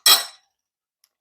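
A metal pan of vegan stuffed bell peppers clanks once into a home oven, a single loud close clatter that quickly fades, followed by near silence and a tiny faint tick.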